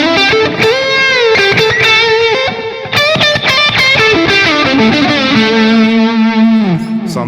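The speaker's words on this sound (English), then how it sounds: "I got quite close with the drive channel on the amp with the boost on, and a drybell vibe machine," Overdriven electric guitar through the amp's drive channel with boost on, a Drybell Vibe Machine and some delay, playing loud sustained chords and picked notes with a wavering, swirling tone.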